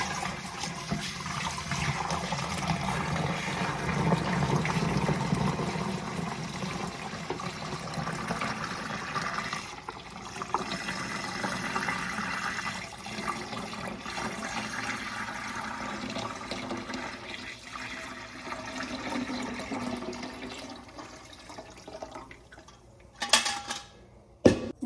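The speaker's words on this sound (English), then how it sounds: "we are going to pour the milk through the filter" Fresh milk for cheddar cheese is poured through a filter in a long, steady liquid rush with faint trickling, ending with a couple of clinks as the vessel is handled, and no talk.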